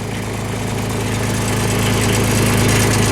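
A skid steer engine idles steadily after starting, a close, even mechanical rumble that holds without pause; the machine has a starter problem and had loose wiring.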